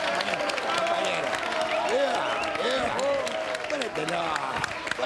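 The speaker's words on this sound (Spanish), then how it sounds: "fuerte el aplauso" Studio audience at a comedy television show breaks into applause, a broad crowd clatter running continuously beneath someone talking loudly over it.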